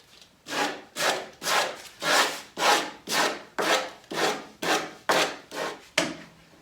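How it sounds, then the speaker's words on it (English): Steady back-and-forth sanding on the wooden side panel of a tall cabinet, about a dozen even rasping strokes in a regular rhythm, close and fairly loud with no talk. "Going to give that a sand."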